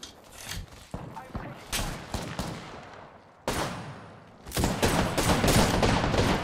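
Rapid gunfire bursts and single shots crack through an Apex Legends battle, dense and loud in the final seconds, with players talking over the fighting.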